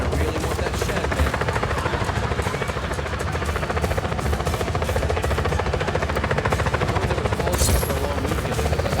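A helicopter in a video game thrums loudly and continuously with a fast rotor chop, joined by bursts of gunfire near the end.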